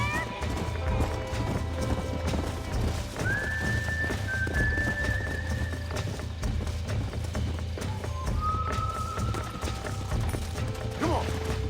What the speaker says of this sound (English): Are you trying to run the horse there?